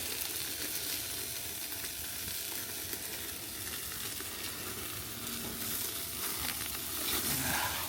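A porterhouse steak sears over a fat-fed fire on a barbecue grill during a reverse sear, producing a loud, continuous close-up sizzle and crackle with no talking.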